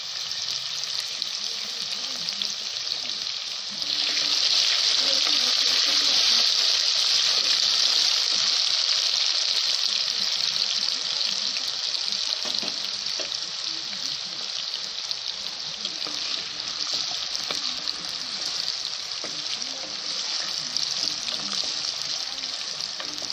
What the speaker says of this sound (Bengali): এবার আমি মুখি কচুটা ভেজে নেব।